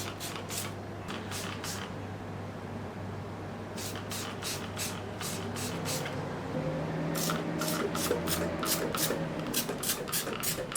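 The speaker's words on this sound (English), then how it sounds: "So with that, I will just give a spray." A hand sprayer mists water onto a variegated Alocasia frydek plant in quick bursts, about eighteen short hissing pumps in clusters. They sound close, and a faint mechanical hum lies underneath.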